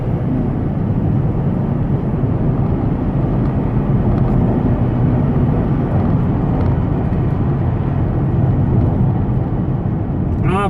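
A Mercedes E250 CDI diesel car with a no-power fault cruises along as it slows down, a steady broad engine and road rumble heard from inside the cabin, continuous and fairly loud with no voices.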